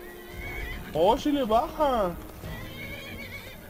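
A horse in the video game Skyrim lets out an agitated, wavering neigh while fighting, loud and close, with someone talking excitedly over it.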